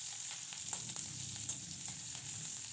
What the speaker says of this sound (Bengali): দেখুন বন্ধুরা পেঁয়াজ রসুন লঙ্কা সবই কিন্তু হালকা করে ভাজা করে নিয়েছি।